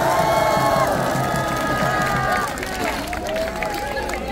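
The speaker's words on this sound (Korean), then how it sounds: "박수 크게 한번 보내주세요" A dense outdoor crowd at a presidential campaign rally by a train station cheers and applauds, shouts and hubbub swelling loudly, with a voice talking over the noise.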